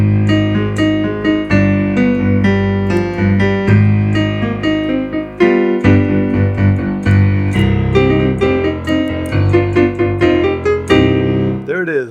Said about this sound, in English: only it's sung, but I'm going to play it on the piano.